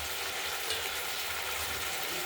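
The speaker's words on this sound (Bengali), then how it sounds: "নুন হলুদ মাছের ভাজার তেলটা রয়েছে, এর মধ্যে দিয়ে দিলাম" Oil left from frying fish, with salt and turmeric, goes into masala in a hot pan and sizzles steadily, a close, continuous hiss with no talking.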